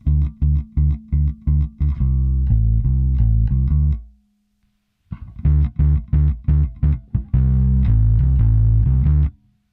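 Electric bass played through a Fender Bassman pedal set with the lower mids kept in for low-end punch: loud, distorted, effected notes in a steady rhythmic riff, then a sustained note, a pause of about a second, and the riff again.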